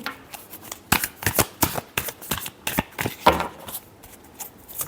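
Tarot cards shuffled by hand in a series of crisp riffling bursts and flicks, close and fairly loud, spaced irregularly over a few seconds with no talking.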